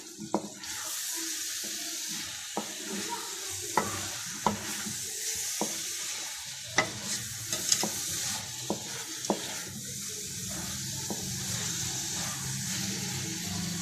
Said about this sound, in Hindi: अब इसमें भिंडियाँ डाल दें। बिस्मिल्लाहिर्रहमानिर्रहीम। और इसको अच्छे तरीके से मिक्स कर लें।